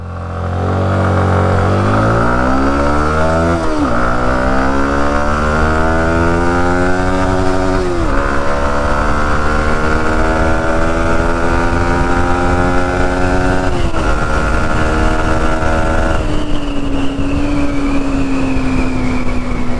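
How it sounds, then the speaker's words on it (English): A 2024 Yamaha R15 V4 sport motorcycle pulls away and accelerates along a road, its engine note climbing steadily and dropping back at several gear shifts, loud and continuous for about twenty seconds with no talking. "Now let's start riding the motorcycle and give you the actual idea of how it feels like on the road"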